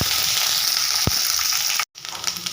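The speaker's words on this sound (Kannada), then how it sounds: "ಕಡಲೆಬೀಜ ಎಲ್ಲ ಸ್ವಲ್ಪ ಫ್ರೈ ಮಾಡಿಕೊಂಡು ಶೇಂಗಾ ಚಟ್ನಿನ ರೆಡಿ ಮಾಡ್ಕೊಳ್ಳೋಣ" Peanuts frying in a pan for groundnut chutney give a steady close sizzle, with one soft thump near the middle and a brief gap of silence before the frying resumes.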